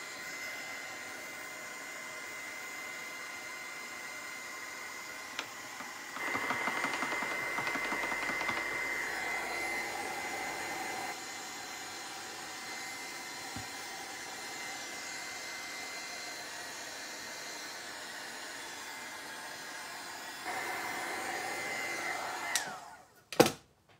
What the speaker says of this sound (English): it's a good idea to blow from different angles so your gel will have a chance to dry also in the empty spaces